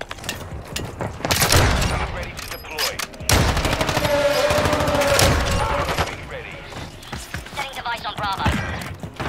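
Sniper rifle fire in a Search and Destroy shooter video game, with loud sharp shots and bursts of gunfire amid clattering game noise and excited voices talking.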